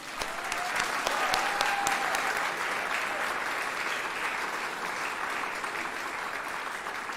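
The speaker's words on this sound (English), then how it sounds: "if we could give her a round of applause" Warm applause fills the room for Ann, the faculty advisor, at a spring 2022 prelicensure nursing pinning ceremony: many hands clapping steadily and fairly loud throughout.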